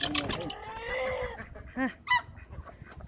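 Chickens cluck and squawk nearby in a short, uneven burst of calls, with a couple of sharper honking notes near the end, over a faint background.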